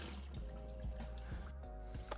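Raw spare ribs are swished and rinsed in a bowl of water, giving quiet, intermittent splashes and drips close up, with soft sloshing in irregular bursts and no voices.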